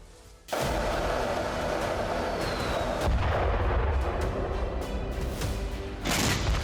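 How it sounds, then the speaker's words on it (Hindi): South Korean warning gunfire in news footage, a sustained roar of heavy firing that rises abruptly and stays loud and dense, with rumbling booms underneath and no pause. "दक्षिण कोरिया ने वार्निंग देने के लिए फायरिंग भी की है।"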